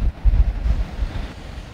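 Cold wind buffets a microphone outdoors beside a Triumph Scrambler 1200 XC motorcycle, a steady low rumble with gusty surges and no speech.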